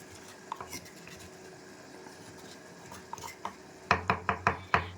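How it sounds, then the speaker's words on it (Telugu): Green chillies are pounded for a curry. Faint scattered taps come first, then five or six quick, hard, evenly spaced strikes close by. "ఇది మొత్తానికి వేస్తే దంచేసి పక్కన పెట్టేసుకుందాం"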